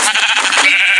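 A Minecraft goat gives a single loud, wavering bleat, heard up close in a video game with no talk over it.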